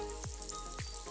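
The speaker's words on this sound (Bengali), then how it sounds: "নুন হলুদ দিয়ে আমি আলুটা ভেজে নিচ্ছি।" Potatoes fry in oil with salt and turmeric, giving a close, steady sizzle. Two quick scraping stirs cut through it within about a second.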